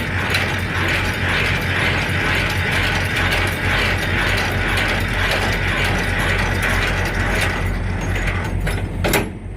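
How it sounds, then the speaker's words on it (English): Semi-trailer landing gear being hand-cranked, a loud, close, rapid ratcheting and gear clatter repeating steadily throughout, with a sharper clank near the end. "Most of the time, you get about 30 cranks out of a landing gear to get it up or all the way down."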